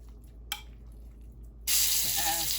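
Seasoned chicken hits a hot cast iron skillet partway through and sets off a loud, steady hiss of searing after a few faint clicks and handling noises.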